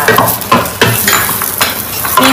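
Pork belly with garlic, coriander root and pepper is stir-fried in a wok. A spatula scrapes and clatters against the pan in a brisk, irregular rhythm over a constant sizzle, loud and close.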